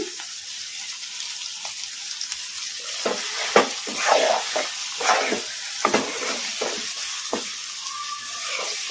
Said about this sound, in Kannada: ಈಗ ನಾನು ಸೈಡ್ ಡಿಶ್ ಆಗಿ ತಿನ್ನೋದಕ್ಕೆ ಒಂದು ಸ್ವಲ್ಪ ಹೈ ಫ್ಲೇಮ್ ಅಲ್ಲಿ ಇಟ್ಕೊಂಡು ಫ್ರೈ ಮಾಡ್ಕೊತೀನಿ